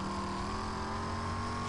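A car engine in the video game Rage holds a steady, droning hum with a slowly rising tone, continuous and fairly close throughout, with no voices over it.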